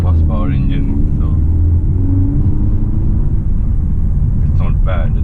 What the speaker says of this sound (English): even it's a 2-liter 190 horsepower engine